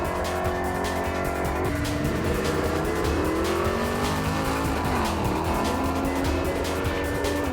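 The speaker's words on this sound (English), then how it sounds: "The car runs a 750 horsepower NA 383 cube stroker" A drag car powered by a naturally aspirated 383 cubic inch stroker making 750 horsepower roars loudly and continuously, its engine note rising and shifting with revs and tire squeal throughout, with no talk over it.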